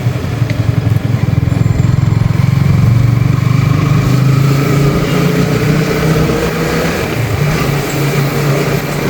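Yamaha MT-15 BS4 motorcycle engine on the move at light throttle, a steady, loud low drone with continuous road and wind rumble, no voices.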